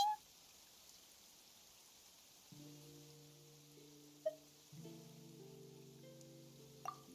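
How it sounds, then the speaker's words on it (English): Rain falling in the Genshin Impact video game, a faint steady hiss of rainfall under quiet sustained musical tones, with a couple of soft drip-like accents. "It's raining."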